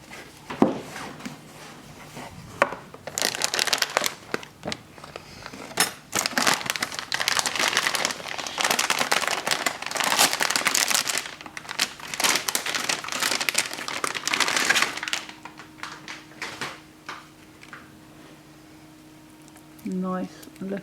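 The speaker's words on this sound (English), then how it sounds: "just unboxing the graphics card now" Plastic packaging around a new graphics card crinkles and rustles continuously during unboxing, dense and close for several seconds before easing off into quieter handling noises.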